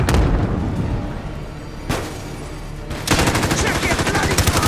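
Gunfire rattles in Call of Duty: Modern Warfare Warzone as loud bursts of automatic shots break off, pause, then resume in a dense rapid stream near the listener, with no speech over them.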